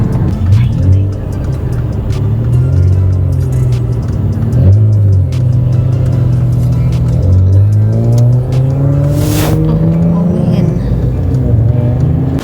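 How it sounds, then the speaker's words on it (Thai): A Toyota Supra's engine revs loudly and continuously, its pitch rising and falling through repeated acceleration sweeps, with a brief whoosh near the end. "สุปราซิ่งจริงสุปรา คันนี้มีแรงหน่อย"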